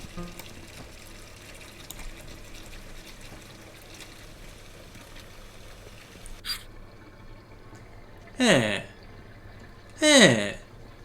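Water runs and drips steadily in a video game, a soft constant trickle, followed by two short, louder bursts near the end.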